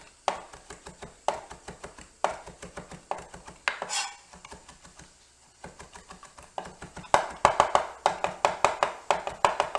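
A knife chopping fresh herbs on a cutting board, quick rhythmic bursts of sharp taps close up, pausing briefly between runs of strokes, with no talking.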